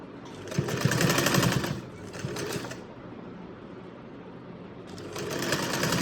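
A sewing machine stitches a salwar in loud, close bursts of rapid whirring needle strokes, running about two seconds, pausing, running again briefly, then starting up once more after a quieter stretch.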